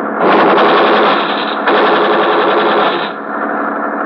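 Machine-gun burst sound effect from an old-time radio detective drama, a loud, dense, rapid rattle of automatic fire that runs continuously for several seconds with a short break near the middle, with no voices over it.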